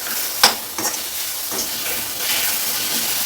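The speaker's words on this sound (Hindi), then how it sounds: "टमाटर को इसी में मिक्स कर देंगे। और आँच को हमें मीडियम रखना" Chopped tomato and green chilies drop into a hot pan and are stirred, giving a soft steady sizzle and hiss with a few scraping stir sounds, close and fairly quiet.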